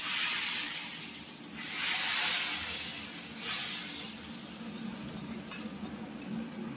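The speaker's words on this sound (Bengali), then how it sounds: "হচ্ছে সবচেয়ে ক্রুশিয়াল টাইম, এই ফোড়নটা ঢেলে দেওয়া" Hot tempering spices poured into a pot of khichuri, a loud rushing sizzle and hiss that swells twice and then settles into softer crackling, close by with no talking.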